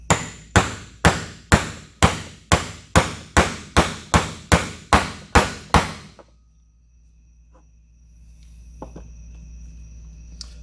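A hammer strikes twelve times in a steady rhythm, pressing a seal into an NV231/NP231 transfer case, each blow sharp and ringing, then the pounding stops and only quiet background hiss remains.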